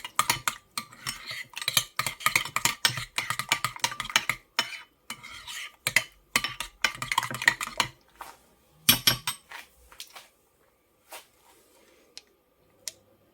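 A spoon stirs homemade Mac sauce of French dressing and yellow American mustard in a bowl, scraping and clinking rapidly against the sides in close bursts before slowing to a few isolated taps.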